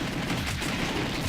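Rapid gunfire from the House of the Dead 2 arcade light-gun game, a dense, continuous burst of shots filling the short stretch with no talk over it.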